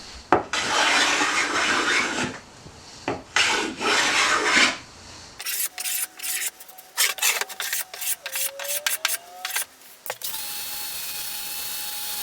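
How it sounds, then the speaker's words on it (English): Hand plane and sanding cleaning up plywood edge banding in a woodshop: a dense, steady rasping rub for about five seconds, then shorter scraping strokes and clicks with a faint tonal whine in the background. "then I'll just clean that up with a hand plane followed by some sanding"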